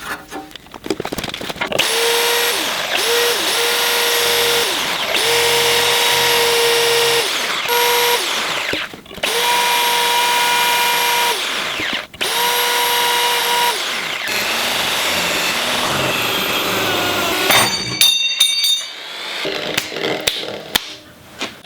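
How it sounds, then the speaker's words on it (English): A power drill bores into hard bed-frame sheet metal in several loud, whining bursts of a few seconds each, separated by short pauses, ending with clattering handling noise. "I literally just drilled for something like 12 minutes and got this far. This bed frame sheet metal is hard."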